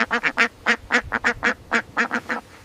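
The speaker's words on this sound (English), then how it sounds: "This is a medium brown farm duck." A medium brown farm duck quacks in a rapid series of about fourteen short, loud, close calls, evenly spaced and nearly continuous over a few seconds.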